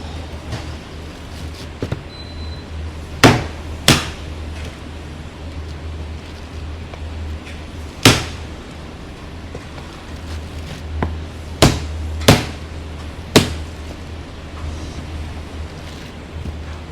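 Pork bones for tonkotsu ramen at an Amagasaki ramen shop are struck with a hetsuri hammer, giving about six sharp, loud cracks at irregular intervals over a low, steady kitchen hum.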